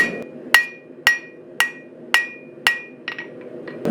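A hand hammer rings sharply on a heavy Vevor anvil, six bright, evenly spaced metallic strikes about half a second apart, each with a short ringing tail, over a low background hum, then a few lighter taps.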